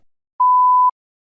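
A single clean electronic beep, a steady mid-pitched tone lasting about half a second, alone in silence as a cue in a TOEFL practice test.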